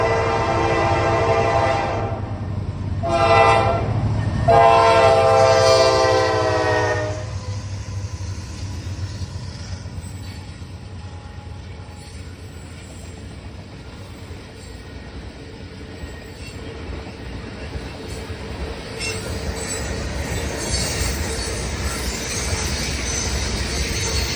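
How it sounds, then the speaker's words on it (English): A freight train with a former BC Rail locomotive trailing third passes in Northeast Ohio, opening with several loud, sustained horn blasts, then settling into a steady rumble and clatter of rolling cars. "Another train with foreign power next, this time a former BC Rail-9 trailing third."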